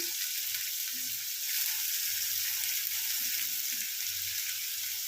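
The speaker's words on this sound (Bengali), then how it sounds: "তেল গরম হয়ে গেছে, পেঁয়াজগুলো ভালো করে ভেজে নেব" Onions sizzle and fry steadily in hot oil in a home kitchen, a continuous close hiss with faint stirring beneath, no voices.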